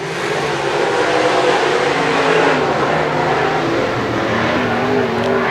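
Sprint cars race and overtake on a dirt track, a dense, loud blend of engines droning and rising in pitch as cars pass close by, with no talking.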